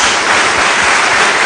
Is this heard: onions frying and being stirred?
no